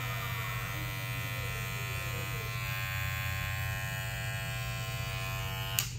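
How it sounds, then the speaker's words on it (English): A gold electric hair clipper runs alone with a steady, loud, even buzz for the whole stretch, ending in a brief click near the end. "we're going to do a sound test here. Start off with the loudest clipper"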